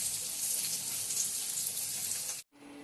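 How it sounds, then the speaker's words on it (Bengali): Spices sizzling in hot oil as a tempering for Bengali sour dal, a bright continuous hiss that cuts off abruptly near the end. "এবার ফোড়ন দেব।"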